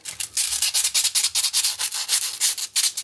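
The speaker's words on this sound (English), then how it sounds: "You're meant to rub between two pieces of sandpaper." Seeds being scarified by rubbing them between two pieces of sandpaper make rapid, repeated gritty scratching strokes, close and loud, in an uneven back-and-forth rhythm.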